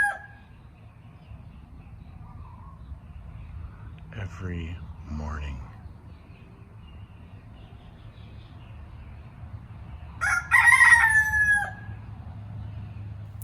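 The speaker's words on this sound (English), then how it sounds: "Yeah, roosters everywhere." Roosters crow in Maui, one clear cock-a-doodle-doo near the end and a fainter call at the start, over a low steady background with a short burst of other noise in the middle.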